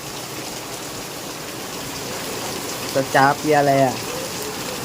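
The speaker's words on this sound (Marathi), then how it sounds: "अजूनच पाऊस आलाय जोरात" Heavy rain pours in a steady, dense hiss throughout, with a person speaking briefly over it.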